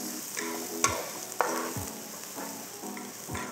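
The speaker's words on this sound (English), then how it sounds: "add in some oil. And then the shallot and garlic goes in." Shallots and garlic sizzling in hot oil in a wok, a steady close hiss with a few sharp scrapes and taps of a spatula, no voices.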